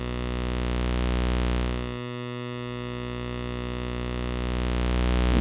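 A Bullfrog XL synthesizer plays a steady, buzzy pulse wave one octave down, holding a constant tone throughout with a slight dip in level partway through and no voices.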